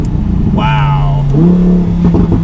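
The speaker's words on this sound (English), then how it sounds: "Probably one of the best, if not the best sounding V10 out there." A 2020 Lamborghini Huracan EVO Spider's V10 revs loudly as a steady engine drone swells into rising, throaty pitch sweeps, heard close from inside the open-top convertible.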